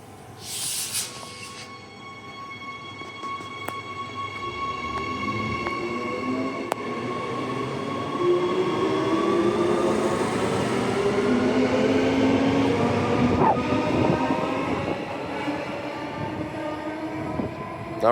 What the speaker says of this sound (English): Beckenham service departing.